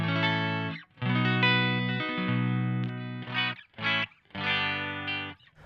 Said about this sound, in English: Neck pickup sounds a bit like this.